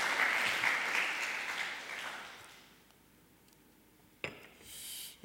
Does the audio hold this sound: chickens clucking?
no